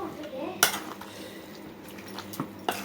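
Ladle scraping and clinking against a cooking pot while a spiced mixture is stirred, a few sharp metallic knocks spread over a quiet kitchen background.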